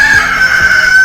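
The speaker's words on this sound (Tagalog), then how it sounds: "tumilaok po ang manok." A rooster crows loudly and close up, one sustained, steady call that fills the whole moment with no talking over it.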